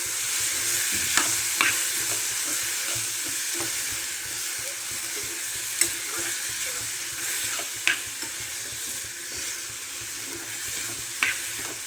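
Cluster beans (guar) sauté in hot oil in a pan, giving a steady close sizzle with a few sharp stirring clinks and scrapes scattered throughout, no talking.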